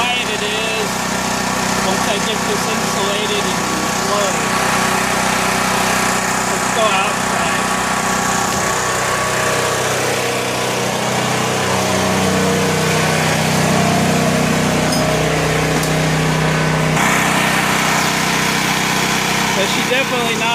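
A Honda 4000-watt portable generator, hooked to a 17.5-gallon fuel tank, runs with a loud, continuous engine drone and hum that stays steady throughout, while a person talks over it.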